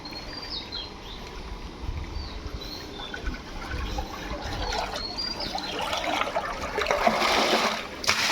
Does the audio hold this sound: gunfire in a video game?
no